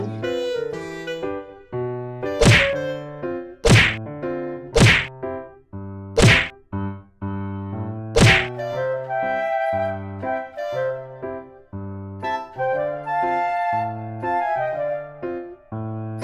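Sharp, loud whacks and thuds land in a quick series during a staged comic fight, over dramatic background music.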